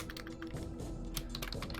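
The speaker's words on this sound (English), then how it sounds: "Can I just type in here like goblin" Fingers type quickly on a computer keyboard nearby, a fast, fairly quiet patter of key clicks lasting under two seconds over a low background hum.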